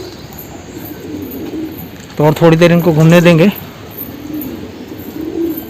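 Wild pigeons on a rooftop coo in a short burst of low, warbling notes, fairly close, while someone talks over and around them.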